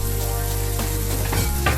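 Vegetables fry loudly and continuously in a pan for cheesy cup macaroni, a dense sizzle over a low hum, with a few stirring scrapes near the end.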